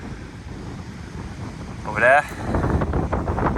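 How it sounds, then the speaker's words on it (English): Strong wind buffets the microphone on a coastal clifftop on Jersey in the Channel Islands, a steady rushing roar that briefly swells. Someone speaks a few words over it. "it's quite windy"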